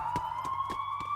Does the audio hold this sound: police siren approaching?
yes